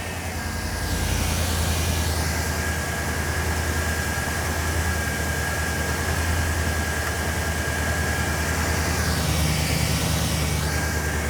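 Chevy Express van engine idling steadily with a continuous low rumble and broadband hiss, unchanging for over ten seconds, close and fairly loud, with no talking.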